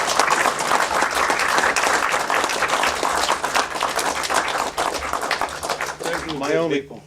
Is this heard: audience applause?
yes